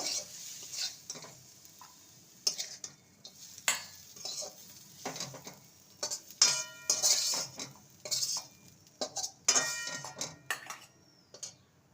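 A spoon stirs and scrapes a breakfast filling in a pan with steady metallic clinks and knocks, close and moderately loud, faint sizzling underneath, no voices.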